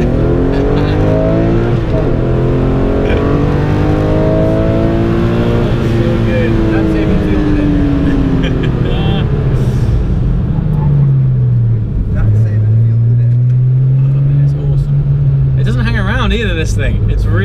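A Porsche GT3 RS supercar's engine revs and accelerates from inside the car, its rising and falling tones sweeping up and down as it pulls hard, loud and near, with people talking over it.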